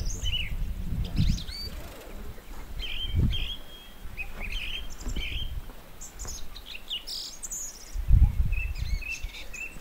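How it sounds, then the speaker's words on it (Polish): Birds sing in sunshine on a mountain trail near Skrzyczne and Barania Góra, with repeated bright chirps and short trills at moderate distance over low wind rumble. "Ptaszki śpiewają, słońce świeci."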